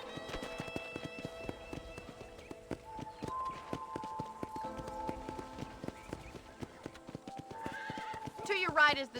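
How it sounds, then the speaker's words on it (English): Horse hooves clip-clop at a steady walk in the Red Dead Redemption video game, with tack jingling and a neigh near the end, over quiet game music and speech. "let's see if you can still ride a horse."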